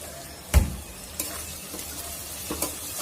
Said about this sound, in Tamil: வெங்காயம் நல்லா கொஞ்சம் பொன்னிறமா வதங்கட்டும்